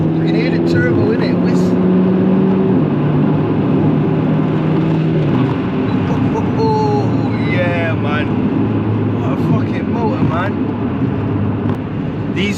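Turbocharged 320 bhp Audi S3 8P engine under way, a loud continuous drone and whir with rising and falling tones, heard from inside the car beneath steady talking.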